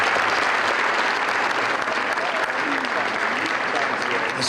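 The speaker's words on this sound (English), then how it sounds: "So please give everybody here a round of applause" Loud, sustained audience applause at the 2001 Mr. Olympia bodybuilding press conference, a dense, even roar of clapping filling the room for the full stretch.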